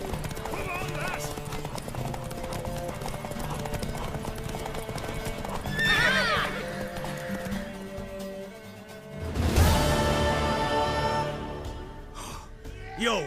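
A mare gallops in The Witcher 3: Wild Hunt, rapid clip-clop hoofbeats running steadily under spoken dialogue, followed by a loud whinny and snorting from the horse near the end.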